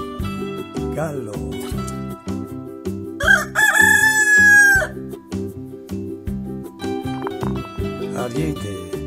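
Rooster gives one loud, drawn-out cock-a-doodle-doo crow over a bouncy music bed, part of a farm-animal learning sequence for children.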